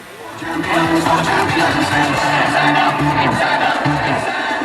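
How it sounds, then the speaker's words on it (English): At a team competition's opening ceremony, a crowd cheers and claps in a loud, continuous wash of noise over a steady low musical backing. "Big round of applause to Team Cluid."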